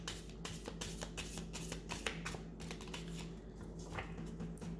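Tarot cards being shuffled by hand, quiet close riffling and soft flicking taps in quick irregular bursts, steady throughout with no voices.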